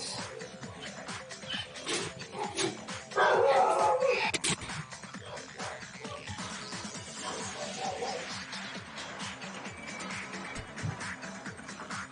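Dogs barking inside a room during a Danganronpa: Trigger Happy Havoc class trial, a steady murmur of yips and whimpers under game noise, with one louder burst of barking near the middle.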